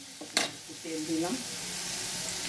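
Oil frying in a pan with dried red chillies, turmeric and salt, a steady hiss with a brief clink and stirring scrape near the start.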